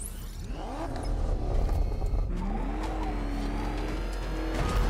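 The Batmobile in Batman: Arkham Knight drives hard with a loud, close engine roar that revs and rises in pitch, while tyres squeal and skid over the continuous rumble.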